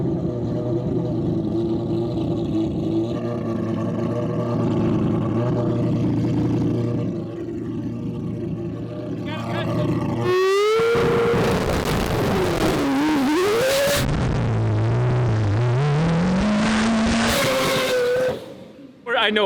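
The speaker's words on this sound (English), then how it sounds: "even over the noise of the car, I can hear all four tires throwing rocks after I got done with that." A four-rotor rotary engine car idles with a buzzing drone, then roars hard under acceleration with pitch sweeping up and down, tires spinning and flinging gravel, loud and close.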